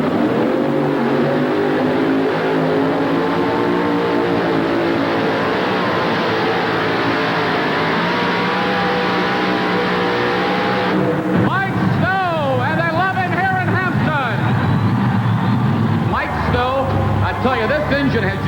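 A tractor-pull vehicle, the Georgia Bulldog with a newly installed engine, roars down the track at a 1988 event, a loud continuous engine blare with rising and falling revs while an announcer talks over it throughout.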